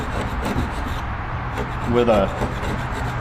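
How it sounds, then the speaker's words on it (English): A metal scraper peels old candle wax off the worn wooden finish of a Singer 15-91 sewing machine cabinet, giving a close, rough rasping scrape under a man's speech. "metal scraper here, since the rest of the finish on this is basically shot, there's no worries about scratching the finish while I peel up the candle wax"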